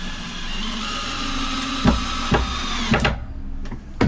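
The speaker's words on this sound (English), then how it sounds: "So then I screw the upright bits in from essentially the bottom." A power drill whirs steadily while driving screws up through wooden strips into small upright pieces for a van panel frame, close and loud, with a few sharp knocks before the motor cuts off.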